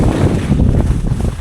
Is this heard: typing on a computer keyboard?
no